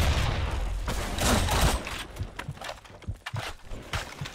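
Cyclone gun in the shooter Blackshot firing rapid bursts, a dense fusillade at first and then sharper separate shots, loud and close.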